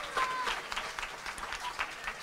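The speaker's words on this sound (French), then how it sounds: "Alors, on peut l'applaudir." An audience at a children's concert claps in a brief, fairly faint burst of steady applause.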